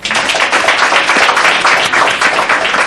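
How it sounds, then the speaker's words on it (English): Audience applause at a send-off event for Comrades Marathon runners, cadets and ambassadors in the crowd, dense steady clapping filling the whole stretch at close range with no break. "a round of applause"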